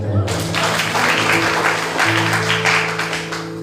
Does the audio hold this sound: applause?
yes